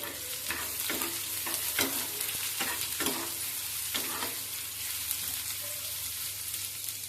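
Chopped garlic frying in hot oil with onion, a steady close sizzle punctuated by repeated clicking stirs of a spatula against the pan, no voices.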